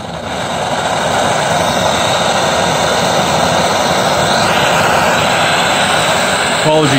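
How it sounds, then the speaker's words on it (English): A blowtorch fired up for heat-bluing bolts gives a loud, steady roaring flame that rises within the first half-second and holds evenly to the end, with a brief extra flare near the close. "I'm just going to fire up the blowtorch now."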